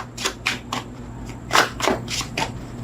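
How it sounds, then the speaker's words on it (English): A tarot deck is shuffled by hand in a run of quick, crisp riffling bursts, about eight short flurries close to the listener, with no talking. "3 outcome cards off the top of the deck after this shuffle"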